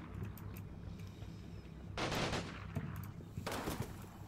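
Gunfire in a World War II video game set at a fortress in Italy, two loud bursts of rapid shots standing out against a low rumbling battle background, no speech.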